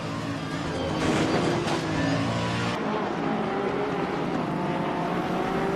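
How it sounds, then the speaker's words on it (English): A racing car engine in a video game, an AMG at Imola, roars loudly, then the pitch drops as the throttle eases off, engine note settling lower and steady. "as we go around this corner here, have a listen to my engine. You'll hear me backing off."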